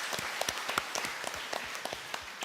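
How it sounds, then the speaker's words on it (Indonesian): Applause from a church congregation at a Sunday Easter Mass, sparse and uneven claps at moderate distance, quieter than a full ovation. "Tepuk tangan buat Paus Leo ke-14."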